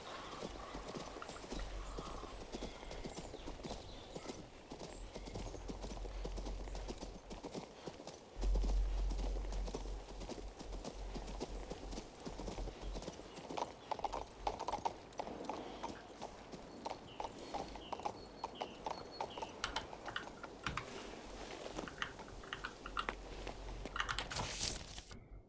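Horse hooves clip-clop at a steady rhythm as a rider travels in the fantasy video game King's Bounty 2, continuous and moderately close under faint ambient game sounds, with no voices.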